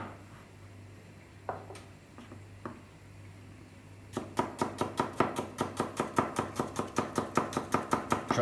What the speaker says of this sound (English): we're going to start with just cutting some shallots